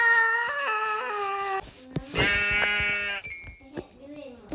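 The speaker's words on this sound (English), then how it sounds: "Why is there a sheep on a melon farm?" Sheep bleats from a Minecraft game, several short wavering cries with clear harmonic tone, loud and close, mixed with game effects and a voice talking.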